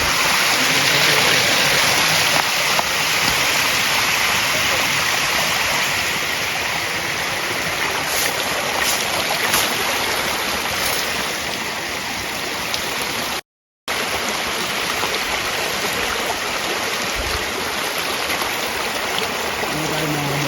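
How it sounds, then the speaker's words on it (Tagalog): Steady broadband rush of a flowing stream, continuous and fairly close, with water splashing over rocks throughout and no talking. "Binabaybay na yung sapa."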